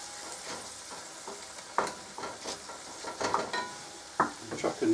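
Bacon sizzles in a frying pan beneath intermittent scraping and clattering stirs, a moderately quiet, close hiss with irregular louder bursts.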